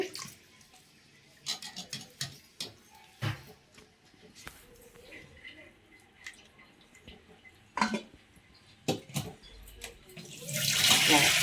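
Homemade butter is washed by hand in water, with intermittent sloshing, splashes and drips close by, and a running stream from a tap swells loudly at the end.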